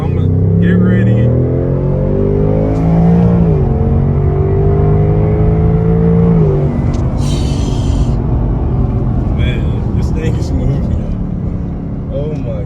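A car with a smooth 10-speed automatic transmission drives steadily, its engine droning and shifting through gears up close while someone talks over it.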